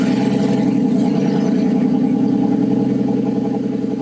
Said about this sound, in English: let's just start the car up and then let it warm up and, you know, just hear it